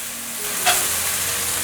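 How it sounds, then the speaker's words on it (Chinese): Shiitake mushrooms and carrots stir-frying in a wok, a steady close sizzle with a brief scrape of the spatula tossing the vegetables. "把香菇炒香炒软"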